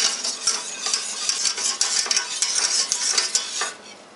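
A spoon stirring thickening cheese sauce for cauliflower in a pan, with repeated scraping strokes and soft clicks against the metal over a faint bubbling sizzle, close and continuous.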